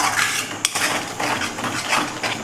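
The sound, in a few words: mixing vegetables with salt in a pan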